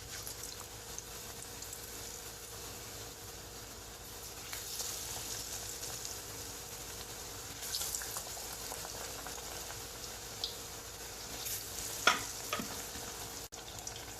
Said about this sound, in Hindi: इसी तरह से पकोड़ों को डुबाते हुए इसमें डालते जाना है